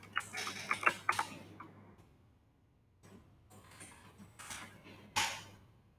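Computer keyboard keys clatter in short bursts of quick clicks while a Python function name is typed, with pauses between bursts and a faint low hum underneath.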